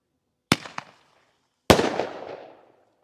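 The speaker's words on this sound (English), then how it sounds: "Here goes our first red wave artillery stick." A red wave artillery stick firework at a 4th of July show goes off, with a sharp launch pop followed by a louder bursting boom that crackles and fades, heard alone with no talk.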